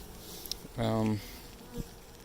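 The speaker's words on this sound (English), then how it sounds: "that leaves us with a lot of bees" A single honey bee buzzes close by in a short, steady burst near a Flow Hive packed with newly installed bees, with quiet surroundings before and after.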